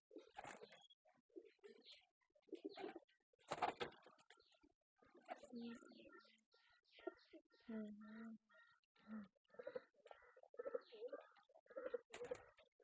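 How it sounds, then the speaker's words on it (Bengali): Domestic pigeons, including fancy breeds, coo repeatedly in a home loft while sunning themselves, with soft rhythmic burbling calls near and clear, punctuated by a few sharper bird sounds and light handling noise. "এখানে সব কবুতর রোদ পাড়াইতেছে"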